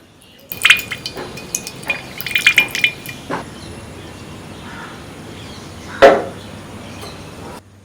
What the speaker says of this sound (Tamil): அந்த நெய்யில் ஒரு 50 கிராம் நெய் மட்டும் இந்த வாணலியில் ஊற்றிக்கலாம்.